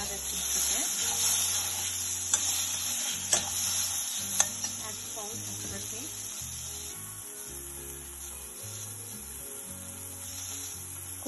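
Masala with curry leaves, mustard seed and dry red chili cooks in a pan before boiled yucca root goes in, a low steady sizzle with scattered spoon scrapes and taps on the pan.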